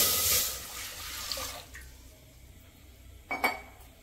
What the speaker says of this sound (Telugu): మళ్ళీ ఈ గ్లాస్ నీళ్ళు పోసానండి.